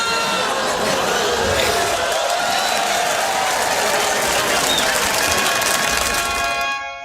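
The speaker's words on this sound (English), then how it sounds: "Let me give you a big old cheer for that one" A recorded crowd cheer played as a birthday celebration, a dense, steady roar of applause, whoops and voices that holds at full loudness for several seconds before trailing off at the end.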